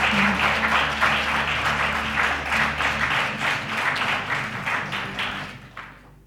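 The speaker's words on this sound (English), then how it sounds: "Ladies and gentlemen, another round of applause," Audience applause at a workshop ceremony, dense sustained clapping from a crowd that carries on for several seconds, then thins and fades out near the end.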